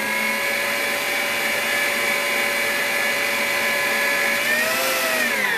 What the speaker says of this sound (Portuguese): Vamos fechar nossa batedeira e vamos bater.